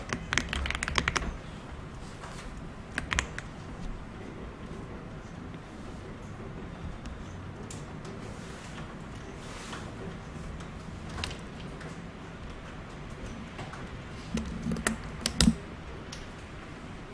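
Computer keyboard typing at a desk while working in an Excel spreadsheet: steady, close clusters of soft key clicks with a few louder taps, running continuously beneath a low room hum.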